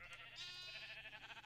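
Loud, continuous sheep bleating from a video game called Glitchcraft, several overlapping bleats layered into a dense, wavering chorus that runs throughout without pause.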